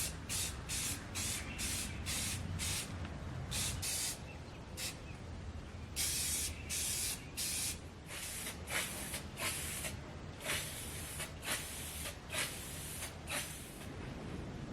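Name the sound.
spray priming a restored cast-iron bench vise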